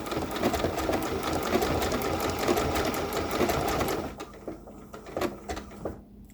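Sewing machine running steadily while stitching a blanket-stitch binding on fabric, a loud continuous mechanical hum for about four seconds, then stopping and giving way to quieter intermittent clicks and handling of the fabric.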